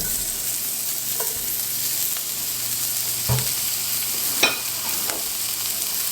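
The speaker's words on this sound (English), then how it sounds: "We're going to add in our onion." Onion sizzles steadily in a hot pan, a constant crackling hiss with a few sharp scrapes and clicks from stirring, close and fairly loud with no voices.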